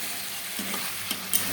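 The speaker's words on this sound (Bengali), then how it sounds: "আর যেখানে মাংস রান্না হচ্ছে" Mutton kosha sizzling and frying in a pan, a steady bright hiss with a few soft stirring scrapes, close and continuous with no talking.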